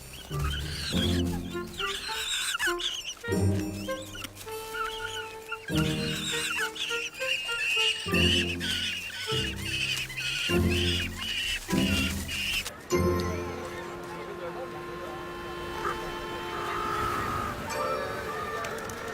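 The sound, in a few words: penguin chicks calling in a colony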